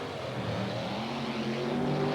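The Nightmare race truck's engine roars on a track, a continuous loud drone that rises in pitch as it accelerates, with no talk over it.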